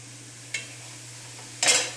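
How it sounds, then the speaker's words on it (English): Vegetable chili being stirred in a pot gives two brief scraping sizzle bursts, a short one early and a louder, longer one near the end, over a steady low hum. "Hear that? Sizzle."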